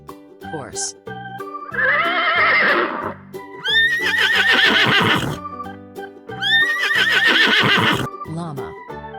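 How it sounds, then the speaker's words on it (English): A horse neighs and whinnies three times in loud, shaky bursts separated by short pauses, set against light background music. "Horse."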